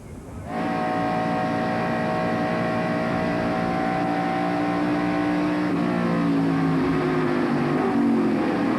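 A loud NASCAR Winston Cup race car engine, heard from the in-car camera at Atlanta Motor Speedway in 1993, drones steadily at high revs, its pitch shifting slightly as it runs continuously without pause.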